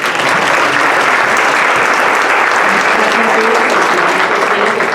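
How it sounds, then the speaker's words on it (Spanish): A large audience applauds a guest speaker at a talk on Jewish participation with Columbus, producing dense, loud, continuous clapping that holds steady throughout. "Un aplauso, por favor."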